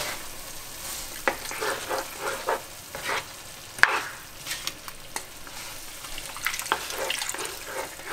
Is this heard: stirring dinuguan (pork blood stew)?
yes